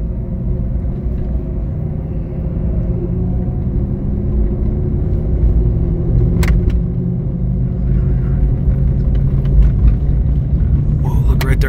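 A car being driven on an Idaho hillside, a steady low engine rumble and road noise from inside the cabin, with occasional faint clicks and people talking over it.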